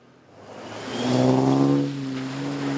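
A near-standard 4WD Nissan Patrol climbs a rock ledge in Jenolan State Forest. Its engine is quiet at first, then revs up loudly and strains with a rising, throaty note before easing to a steady hum.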